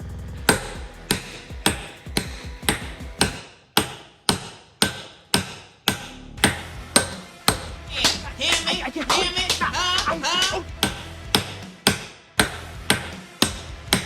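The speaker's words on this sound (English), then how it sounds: "The average hammer blow is between 60 and 120 PSIs." Steady, heavy hammer blows on an aluminum RC car chassis, loud and close, roughly two per second, with a denser burst of ringing, clattering strikes in the middle.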